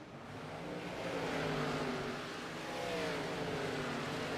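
A race car engine in a sim racing game under a yellow flag, steady and droning with shifting pitch as the car spins out; a continuous close motor hum with no voices.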